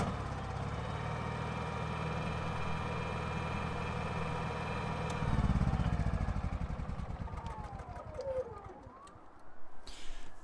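Honda EU70IS petrol inverter generator running, a steady mid-pitched engine drone that gets louder and rougher partway through, with a brief voice heard.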